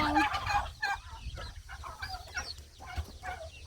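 Several chickens cluck nearby in short, irregular bursts, overlapping now and then, with no talking.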